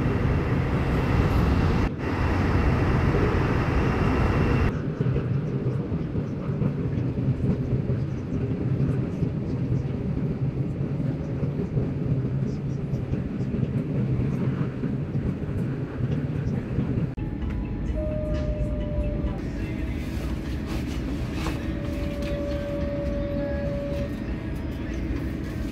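Steady interior rumble of a train ride in Malaysia heading to Kuala Lumpur International Airport, a continuous low hum and rattle throughout with a brief shift partway, plus a couple of faint tonal whines near the end; no clear talk.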